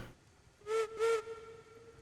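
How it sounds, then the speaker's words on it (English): A steam locomotive whistle in Railroads Online gives two short blasts, faint and somewhat distant, over a quiet background. "Whistle sounds good. Sounds about like the cook whistle."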